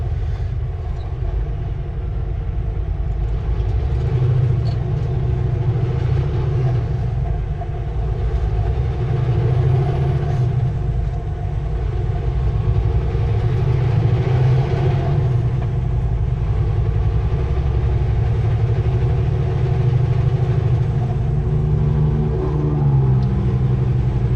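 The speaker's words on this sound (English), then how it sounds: "You need a new muffler. Probably not a muffler, but probably the pipes going between the manifold and the muffler." A delivery truck's exhaust, leaking from the pipes between the manifold and the muffler, gives a loud, steady, rumbling drone that continues throughout with no talk.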